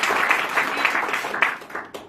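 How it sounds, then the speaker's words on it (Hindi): A crowd at a direct-selling marketing business meeting breaks into brief, vigorous applause, dense clapping that fades out over about two seconds. "उनके लिए जोरदार ताली बजाइए"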